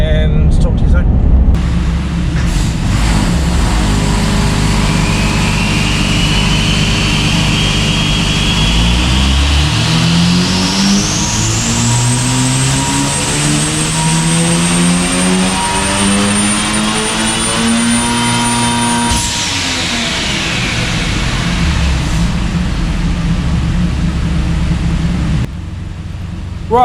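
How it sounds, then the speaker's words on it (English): A single-turbo Mazda RX7 FD rotary engine revs on a dyno, its pitch climbing steadily through a long loud pull before abruptly dropping off, with a high turbo whine rising above the engine. "you've just seen the first dyno run, and now we're running through the second one"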